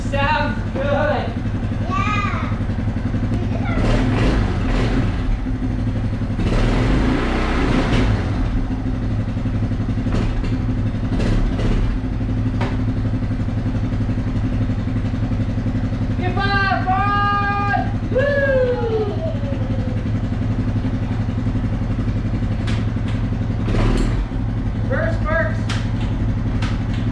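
A freshly restored engine idles with a steady low rumble and light clatter throughout, close by, while people talk over it and occasional brief higher sounds cut in.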